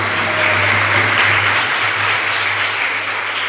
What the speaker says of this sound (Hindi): वेरी गुड, ताली बजाओ सारे।